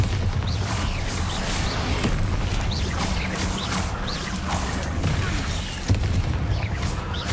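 Repeated booming blasts of the Bombarda spell during combat in Hogwarts Legacy, dense and continuous with spell effects and rumbling impacts layered together.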